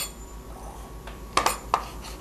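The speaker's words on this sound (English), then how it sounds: "I have some garlic that I'm going to just chop right up" A knife chops a garlic clove on a cutting board in a kitchen, a few sharp close taps clustered near the end against a quiet hum.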